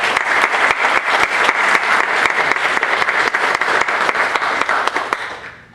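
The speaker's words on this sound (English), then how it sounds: "if we could just give them a round of applause" A crowd at a 2012 finish line ceremony for the 185 For Heroes event bursts into loud, sustained applause, dense clapping filling the room evenly for several seconds before tapering off at the end.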